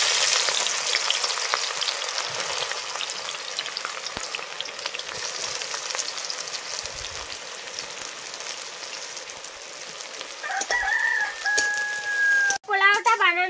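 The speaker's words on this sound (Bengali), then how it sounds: "বেরেস্তা বানানোর জন্য কড়াইতে তেল দিয়ে দেবো" Oil frying in a wok for birista on a village kitchen fire, giving a steady, moderately loud sizzle throughout, with a rooster crowing briefly near the end.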